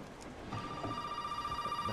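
A telephone in Resident Evil 7 Biohazard rings in a steady repeating electronic trill that starts about halfway through, moderately loud over faint ambience, with no talking.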